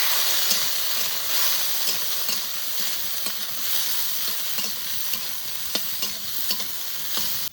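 Dry red chillies crackle and sizzle in hot mustard oil while tempering, a steady, close, continuous fry with scattered pops and occasional stirring clicks.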